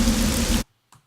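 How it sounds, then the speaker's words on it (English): Exterior rain ambience plays as a dense, hissing wash for just over half a second, then cuts abruptly to near silence with a brief faint blip. "the rain sound."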